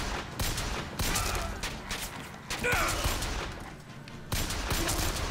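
Rapid gunfire rattles from a gun in BioShock Infinite, loud, close and in several repeated bursts separated by short pauses, with mechanical clacks and a brief whistling effect between volleys.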